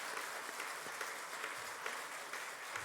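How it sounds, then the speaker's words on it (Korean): A church congregation claps at a presbytery ordination service, a faint, even patter of hands heard from a distance. "이 시간 박수 한번 하십시다."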